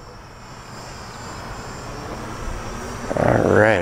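A small budget drone flying back toward the operator on return to home, its whining propeller buzz rising from faint to loud and close over a few seconds.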